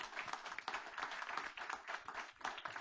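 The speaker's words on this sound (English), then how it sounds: "Can I get a round of applause?" Audience at a school district board meeting clapping in a steady, even burst of applause, fairly quiet and continuous for a few seconds without talking.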